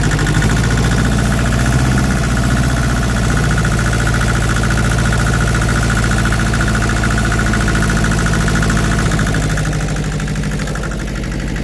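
A tractor engine idles steadily and loudly close by, a continuous rumbling chug with a faint knocking rhythm that holds constant throughout, with no voices.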